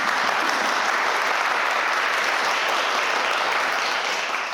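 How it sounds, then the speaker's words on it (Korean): Sustained, dense applause from an audience welcoming a sales support team presenter at a corporate logistics talk, a steady loud wash of many hands clapping throughout with no pause. "큰 박수로 함께 시작하도록 하겠습니다"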